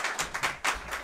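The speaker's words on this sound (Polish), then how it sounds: "Pani Grażyna Starus, wielkie brawa." An audience at a literary contest finale gives brief applause, a short burst of close, uneven claps lasting about a second.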